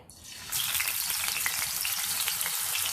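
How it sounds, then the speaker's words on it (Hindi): Fish frying in hot oil crackles with a sudden loud, dense sizzle that starts as the fish goes in and holds steady, close and alone. "आइए फ़िश को फ्राई करते हैं।"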